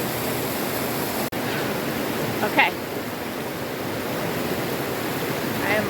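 Burney Falls, a waterfall in Northern California, pours in a steady, close, full roar of rushing water that never lets up, with a single short word spoken over it.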